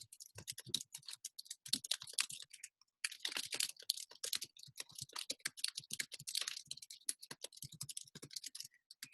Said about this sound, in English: Can you guys see what I'm typing?